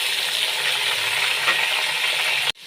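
A masala of browned onion, tomatoes and green chilies fries in oil for aloo shimla mirch, a loud, continuous close sizzle with faint stirring, cutting off abruptly near the end.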